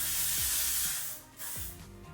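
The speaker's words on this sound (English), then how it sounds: "Got one last spritz. I've been using this L'Oreal 36-hour spray" A single hissing spritz of L'Oreal 36-hour setting spray, a close airy burst that fades, followed by a second brief puff, with no talking.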